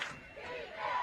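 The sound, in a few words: crowd cheering at a high school football game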